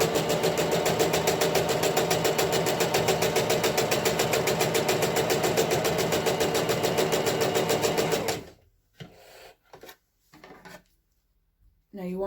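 A sewing machine runs a straight stitch along a cloth face mask seam, a loud, steady, rapid mechanical whir for about eight seconds before stopping, followed by a few faint handling sounds.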